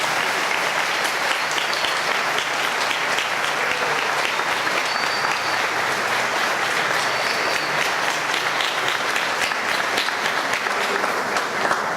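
Applause from a congregation at a healing and deliverance Mass in a church, sustained loud clapping throughout with faint crowd voices and a few tonal touches mixed in.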